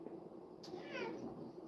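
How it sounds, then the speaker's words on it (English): A cat gives a single short meow close by, a rising then falling cry in a quiet room. "Here comes the cat."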